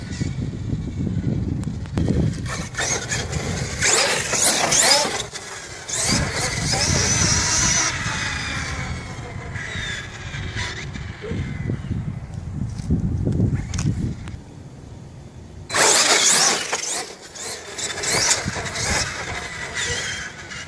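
A Losi LST 3XLE or Arrma Nero RC monster truck drives at speed, its electric motor whining and rising and falling with throttle, tires scrabbling over ground, with bursts of louder revving and faint voices in the background.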